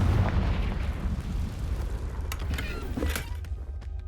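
A sustained, rumbling blast from the Confringo fire spell in Hogwarts Legacy, loud and low at first, then thinning into crackling bursts and pops before fading.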